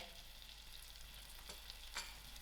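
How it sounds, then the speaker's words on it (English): Ginger frying in melting butter in a pan, a soft steady sizzle with faint stirring scrapes and a couple of brief crackles near the end. "my chillies, my curry leaf, and I will allow this to fry"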